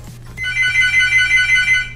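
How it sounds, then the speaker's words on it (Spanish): A telephone rings in a League of Legends gameplay setting, an electronic trilling ring pulsing steadily at close range over a low background hum, with no talking. "Hacía mazo que no llamaban al teléfono"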